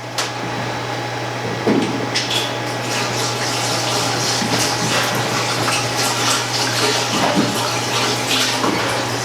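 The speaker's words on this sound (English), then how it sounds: "We'll just grab the cold water hose here" Cold water from a hose rushing into and rinsing out a stainless steel Ss Brewtech unitank, a loud continuous splashing hiss with a steady low hum underneath and a few small knocks, no talk.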